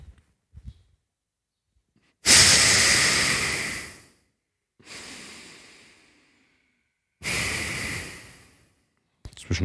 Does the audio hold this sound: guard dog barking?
no